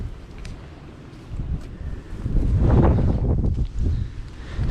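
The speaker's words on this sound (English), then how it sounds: "There's a lot of wind going on." Gusty wind buffeting a microphone beside a small campfire being started outdoors, low rumbling gusts that build and swell midway through, with no voices.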